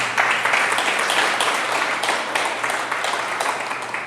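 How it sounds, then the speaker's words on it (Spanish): A church congregation applauds during a sermon, a continuous patter of many hands clapping at moderate loudness, steady across the whole stretch. "Dele un aplauso a Dios por eso."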